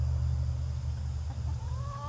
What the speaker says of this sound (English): we've got a total of 58 chickens out here.